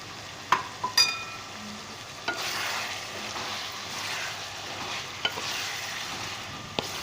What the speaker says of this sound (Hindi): अब इसमें अच्छे से भून लेता हूँ नाज़रीन